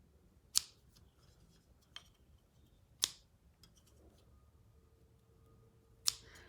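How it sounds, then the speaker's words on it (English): Scissors trimming yarn ends on a backstrap loom: four sharp, separate snips spaced a second or more apart, close and crisp against a quiet room. "I'm just going to try to make it look nicer and trim all these"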